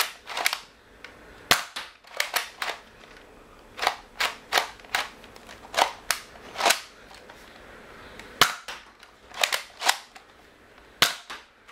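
A Nerf Rebelle Guardian crossbow blaster fires a quick series of sharp, snappy shots, some single and some in rapid pairs, loud and close, with quiet gaps between the shots.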